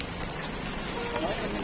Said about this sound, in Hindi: जबरदस्त ओले पड़ने शुरू हो गए देखो रोड पे